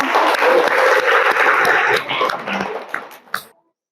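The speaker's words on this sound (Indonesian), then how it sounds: "Tepuk tangan ya." A burst of applause from a group in a classroom, loud and dense at first, then thinning into scattered claps before stopping.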